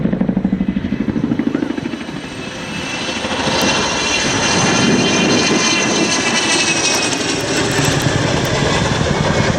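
A Chinook twin-rotor military helicopter flies at the Duxford air display, its loud, steady engine roar and rhythmic rotor chop filling the air close by and continuing throughout.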